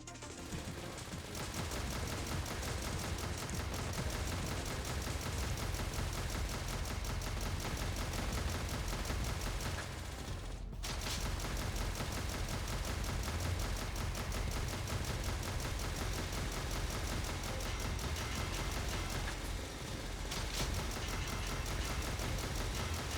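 Advanced assault rifle gunfire in the video game Snezhinka: Sentinel Girls 2, a dense, unbroken roar of rapid automatic shots lasting over twenty seconds, with only a brief break near the middle.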